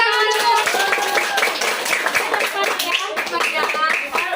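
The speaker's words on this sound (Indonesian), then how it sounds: "Tepuk tangan." Hand clapping from a group at a literacy and outreach gathering at a community reading garden in Medan Denai, brisk and fairly loud, mixed with voices talking and calling out over it.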